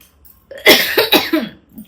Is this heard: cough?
yes